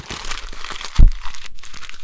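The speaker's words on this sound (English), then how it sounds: "No, I can crumple up this other one." A handwritten paper letter is crumpled by hand, producing a brief close crinkling burst with a sharper crunch in the middle, set against a hissy room background and no speech.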